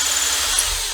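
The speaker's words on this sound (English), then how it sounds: "Just using my drill with a little drill bit to drill through there" Power drill with a small bit boring a drainage hole through a small homemade cement plant pot, a steady close, loud whine held for under a second with no talk.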